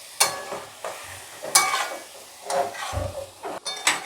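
Elbow macaroni is stirred as it fries in a pan, with several scraping strokes and soft sizzling under them, close and alone.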